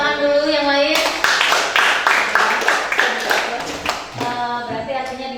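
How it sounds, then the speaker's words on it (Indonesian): Classmates in a classroom clap together for a student, a brisk burst of rhythmic hand claps lasting a few seconds, framed by a teacher talking before and after. "Tepuk tangan dulu yang lain."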